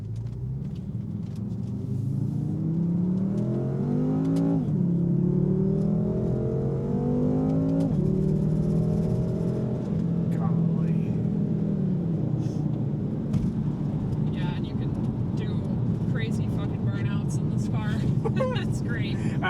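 A 2014 BMW F10 M5 Competition pulls hard under acceleration, its engine note rising through gear changes with a steady loud rumble, while people inside the car talk over it throughout.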